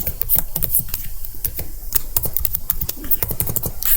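Rapid, steady clicking of keys as a formula is typed on a computer keyboard in Microsoft Word 2016, close and continuous with no voices.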